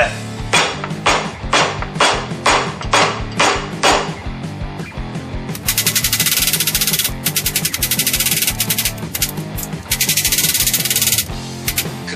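Repeated heavy hammer blows crack and crush parboiled, rinsed pork bones for ramen broth, a steady pounding rhythm with crunching, harsh scraping bursts in between, close and loud.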